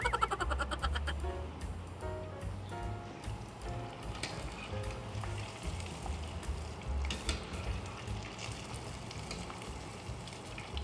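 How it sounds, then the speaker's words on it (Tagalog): Fish deep frying in hot oil, a steady dense sizzle with crackling bursts, fairly close and continuous throughout without any talk. "Just deep fry it until golden"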